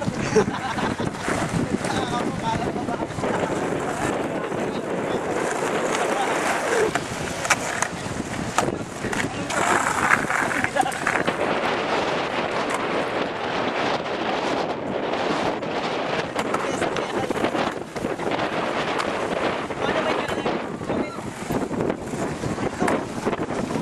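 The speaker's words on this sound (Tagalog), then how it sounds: "Iba hangin dito, no?" Strong wind roars and buffets the microphone in constant gusts. Voices talk faintly underneath.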